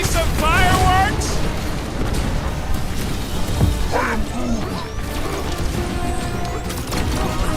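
Loud explosions and crashes in combat in the Guardians of the Galaxy video game, a dense run of booms and smashes mixed with gunfire and effects, with voices shouting over the chaos.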